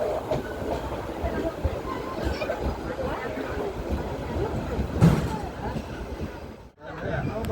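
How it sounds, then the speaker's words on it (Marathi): Koyna Express pulling out of Sangli railway station, a steady rumble of rolling wagons and rail noise running throughout, with a brief louder clank partway through and a voice talking over it. "तीन मिनिटाचा स्टॉप घेऊन आता सांगली रेल्वे स्टेशनवरून आपली गाडी डिपार्चर होत आहे"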